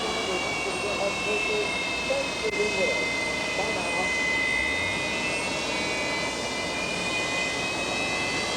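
An Antonov An-124 transport aircraft taxiing at an airfield, its jet engines producing a steady roar with a high whine, while a voice talks over it.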